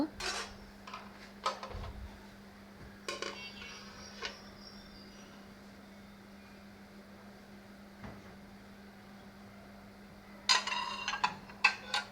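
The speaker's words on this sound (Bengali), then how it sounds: "রাতের থালা বাটিগুলো ধুয়ে রাখছিলাম ওগুলো এখন সব কিছু জায়গাটা জায়গায় রেখে দিব" Washed plates and bowls are stacked and put away in a home kitchen, with scattered clinks and clatters of dishware, quiet and close, bunched at the start and again near the end over a low steady hum, no speech.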